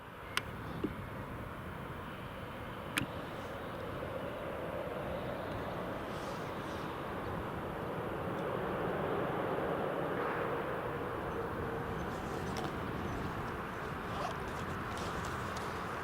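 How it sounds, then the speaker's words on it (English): A TUI Boeing 787 Dreamliner taxis toward the runway at Newcastle International Airport, giving a steady, distant jet rumble and hiss that swells slightly midway, with no voices. "TUI Dreamliner just taxiing along to the runway now."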